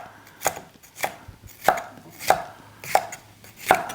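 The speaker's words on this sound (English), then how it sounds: "Go ahead and cut it into slices like this." A knife chops a seeded bell pepper into slices on a cutting board, with six or seven sharp, evenly spaced cuts heard up close and no voices.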